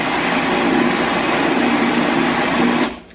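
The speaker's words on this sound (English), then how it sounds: "I'm trying to let the processor do the work here" Food processor whirring steadily as it blends pimento cheese, a loud, close continuous motor drone that cuts off near the end.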